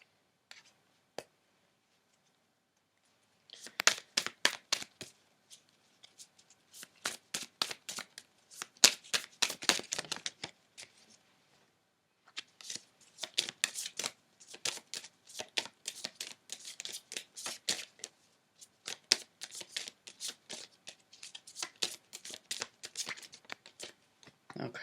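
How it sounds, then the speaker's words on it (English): Tarot cards shuffled in repeated crisp bursts of riffling, close and fairly quiet, with short pauses between rounds and no talking. "I'm gonna pull another crossing card, actually"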